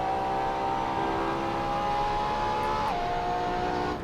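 A LaFerrari in Assetto Corsa drones steadily at high revs, a loud continuous engine whine holding pitch before dipping slightly near the end as the throttle eases.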